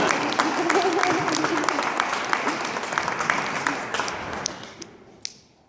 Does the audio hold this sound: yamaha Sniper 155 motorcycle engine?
no